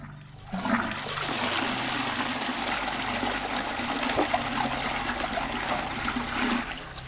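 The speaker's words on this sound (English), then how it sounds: "Why did the toilet flush when I grabbed it?" A toilet flushes in House Flipper, a steady rushing gush of water that runs loud and continuous for several seconds before easing off, with no talking over it.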